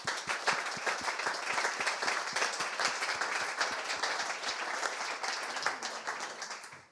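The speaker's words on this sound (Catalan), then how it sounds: "Rebeu-la també amb un aplaudiment" An audience applauds a visual artist at an arts-and-science presentation, a steady round of dense clapping sustained for the whole stretch at moderate loudness, with distinct individual claps standing out near the front and no talk over it.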